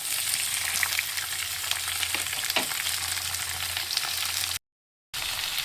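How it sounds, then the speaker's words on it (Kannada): Chopped tomato and onion fry in hot oil with an even, close sizzle and the occasional stir, cutting off briefly near the end. "ಇಲ್ಲಿ ನೋಡಿ ಟಮಾಟೆ ಹಣ್ಣು, ನೀರುಳ್ಳಿ, ಸ್ವಲ್ಪ ಇದನ್ನು ಮೆತ್ತಗಾಗೋವರೆಗೂ ಸ್ವಲ್ಪ ಇದರಲ್ಲಿ ಹಾಕಿ ಮೆತ್ತಗೆ ಮಾಡ್ಕೊತೀನಿ ಫಸ್ಟು."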